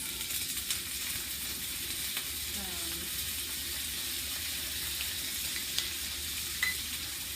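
Frozen carrots and peas stir-fried in a pan for shrimp fried rice give a moderate, continuous sizzle with light scraping and clinks from stirring throughout.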